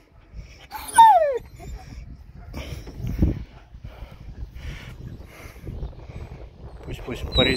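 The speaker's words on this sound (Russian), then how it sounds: "То есть собака реагирует на воде." A Laika dog by a river gives a sharp, rising whimper near the start, then softer whines and yips follow among quiet outdoor noise and light rustling, close by, with a brief squeal at the end.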